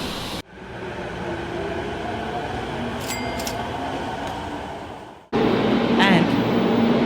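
A commuter train pulls into a Tokyo station platform, its steady rolling rumble and rushing air filling the platform before a sudden shift to closer, louder hiss and mechanical noise as it stops, with brief chimes or signal tones.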